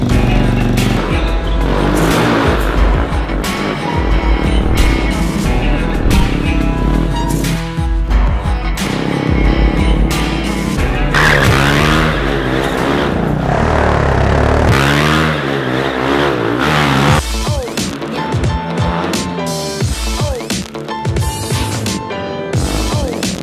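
A stunt motorcycle revving hard on a practice spot, loud engine sweeping up and down in pitch through repeated throttle bursts, close and continuous throughout.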